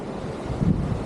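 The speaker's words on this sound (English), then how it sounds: "Cold, snowy, windy." Wind buffets the microphone in a snowy blizzard on Kings Peak, a brief burst of low, gusty roaring that swells slightly near the end, close and rough, with no voices.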